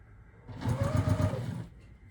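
A sewing machine stitching a quilt block background seam, a short run of rapid, even mechanical whirring and ticking lasting about a second, close and moderately loud.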